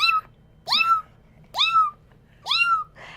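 A person imitates a kitten's cry to call a mother cat. Four short, high, plaintive mews come up close at an even pace, each with a rising then falling pitch, with a soft breathy noise at the end.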